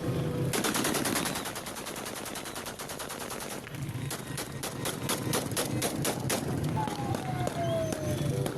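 Rebels in Syria firing weapons in celebration of a capture, with loud rapid bursts of automatic gunfire and crackling shots throughout, some overlapping, amid outdoor commotion and voices.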